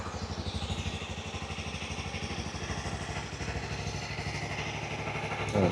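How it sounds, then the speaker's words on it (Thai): A 2020 Honda CB300R ABS motorcycle with its stock exhaust idles close by, a steady, even low throb with a fast regular pulse that holds unchanged throughout. "ต่อมานะครับ เสียงของท่อรถแล้วก็เครื่องยนต์นะครับ"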